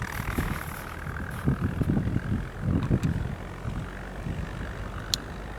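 A struggling tractor engine pulling a Kverneland plough, heard as a continuous rough, throbbing drone with uneven pulses, fairly close and loud, running alone without talk.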